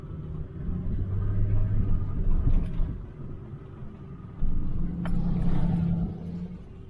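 A four-wheel-drive vehicle rolling along a sandy snowmobile trail, a low, steady engine rumble and tire drone with a slight rise and fall in load.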